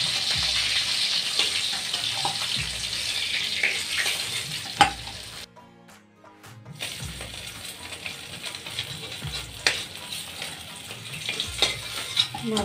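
Pieces of silver carp frying in hot mustard oil in a pan make a loud, continuous, crackling sizzle with occasional scraping of a spatula, briefly dropping away in the middle before resuming.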